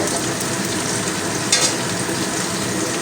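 Cumin seeds frying in oil left from frying fish give a steady, dense crackling sizzle throughout, close and fairly loud, with a brief brighter spatter midway and no voices.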